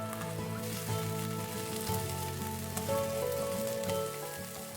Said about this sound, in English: Let the broccolini sear to get some nice color.